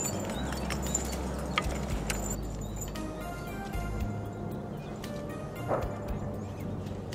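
Small, agile horses walking calmly on the Montagne Saint-Pierre, their hooves clip-clopping in faint, irregular steps against a low rumbling background, with a few sharper knocks standing out.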